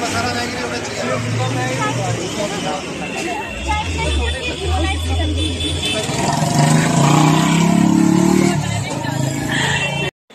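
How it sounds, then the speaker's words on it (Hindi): Heavy road traffic in Delhi near Ramjas College during a Diwali mela, with a dense roar of cars, buses and engines revving, thick with crowd babble and nearby voices throughout. "हाँ हाँ सर पंजाबी आई बहुत ज़्यादा ट्रैफिक है"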